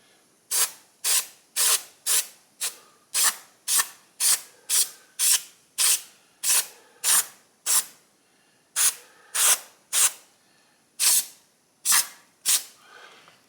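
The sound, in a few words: carburetor cleaner being sprayed on mower carburetor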